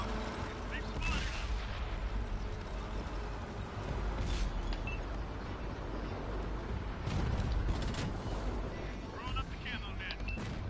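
Artillery fire in a multiplayer video game, a dense continuous barrage of rumbling booms and gunfire running throughout under a steady battle din.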